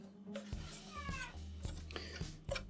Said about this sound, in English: the cat in the background is saying, "Where's my food?"